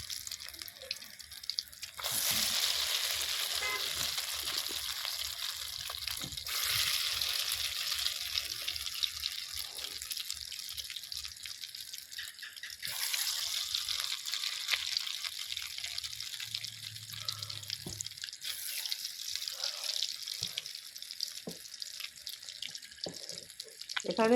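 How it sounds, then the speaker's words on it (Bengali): Heavy rain falls steadily outside in the Sundarbans, a dense, even hiss lasting throughout with brief shifts in intensity and faint clicks and taps nearby. "এখানে প্রচুর বৃষ্টি হচ্ছে"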